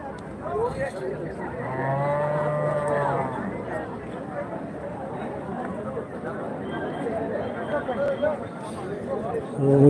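A cow lets out a long, low moo amid the steady chatter of a crowd and someone talking nearby at a native cattle market near Hosur, India.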